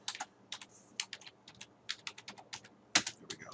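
Quick, irregular clicking of computer keyboard keys typing in bursts of short keystrokes, with brief pauses and one sharper clack near the end, close and fairly quiet.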